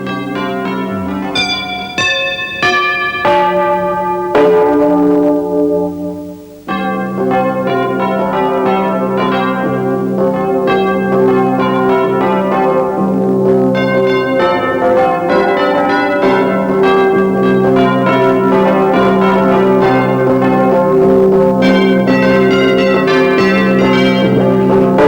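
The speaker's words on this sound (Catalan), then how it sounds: "si sap on sonen avui les nostres campanes" Church bells peal continuously in layered, ringing tones, with overlapping strikes sustaining a full, resonant wash throughout.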